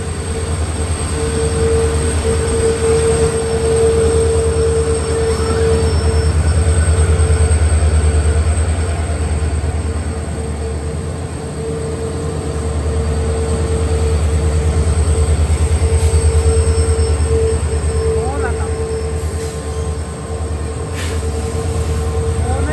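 The Poorna Express rolls into Kulayam railway station in heavy rain, a loud steady rumble with a sustained wheel squeal and rhythmic clatter heard from inside the train.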